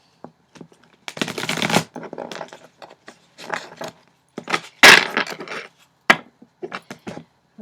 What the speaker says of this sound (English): I'm going to pull a messages card for you.